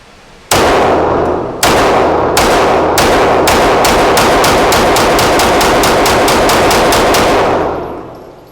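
A 9mm handgun fires about twenty loud, sharp shots at a target, a few spaced ones at first, then a fast, even string of cracks before the sound fades out.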